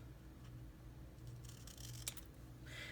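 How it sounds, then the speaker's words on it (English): Scissors snip through paper at an angle for a papercraft gift, giving a few quiet, crisp cuts near the end over a low background hum. "I'm going to just take some scissors and cut it at a bit of an angle"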